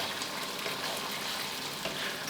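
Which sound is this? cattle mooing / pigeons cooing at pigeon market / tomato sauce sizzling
tomato sauce sizzling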